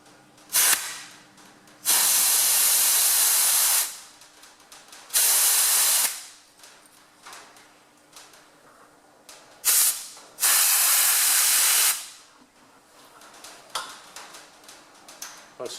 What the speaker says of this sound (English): We have the air hose here.